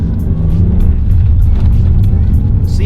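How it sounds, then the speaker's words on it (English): A manual-transmission car accelerates quickly toward about 40 mph, its engine droning loud and near under continuous cabin rumble, with a person talking over it. "I'm gonna accelerate to about 40-ish miles an hour really quickly."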